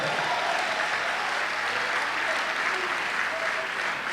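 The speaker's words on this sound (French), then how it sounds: "Oh, quelqu'un peut acclamer pour Jésus." Steady, loud applause from an audience at a conference, a dense wash of clapping that holds evenly throughout.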